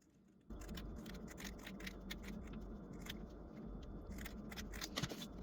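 Scissors snip and slice through fabric while a cross-body purse is cut from patterned cloth, a steady close crunching run with some sharper snips near the end.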